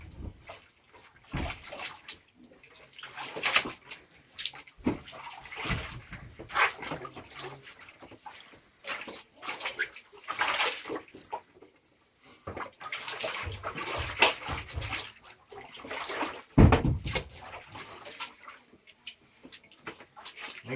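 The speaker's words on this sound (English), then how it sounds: "Now I'm going to do the wash." Gold concentrate being washed in water, with irregular sloshing and splashing bursts, a few louder dips and pauses between, fairly close and moderately quiet, no talking.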